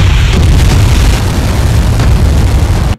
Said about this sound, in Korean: 대륙간 탄도미사일 화성포 17형 발사